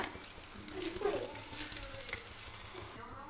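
Banana fritters (pazham pori) made with jaggery crackle and sizzle in hot oil as a continuous bubbling hiss, with occasional light clinks, ending in a quieter tail.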